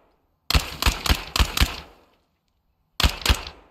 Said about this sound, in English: Shoot through soft cover like this to take out the target behind.